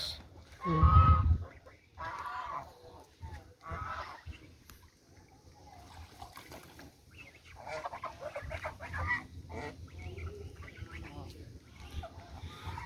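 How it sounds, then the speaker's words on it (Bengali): Geese honking on a school field in the rainy season, a loud close burst of calls near the start followed by fainter scattered honks, with people talking over much of it. "রাজহাঁস"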